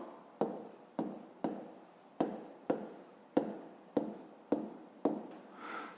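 A pen writing out a fifth-grade math solution on paper, about ten scratchy strokes in a steady rhythm, each starting sharp and then fading, close and soft, with no speech.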